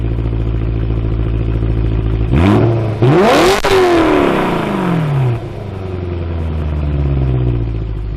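BMW E92 M3 with a modified exhaust revving hard: a loud, close engine climbs through several sharp throttle blips to a high-pitched scream, then drops back to a rumbling idle.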